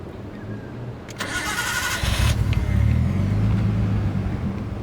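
A Nissan A31 Cefiro cranks briefly, fires up and settles into a steady, rumbling idle, close and fairly loud, with no talking.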